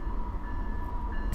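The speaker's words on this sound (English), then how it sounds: "you can probably hear the train going in the background" A train runs steadily in the background, a constant low rumble with a faint tonal hum, heard at a distance without any talk.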